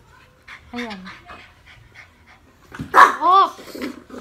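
A dog pants and lets out a couple of short yelps and whines up close, with a person talking over it in the background.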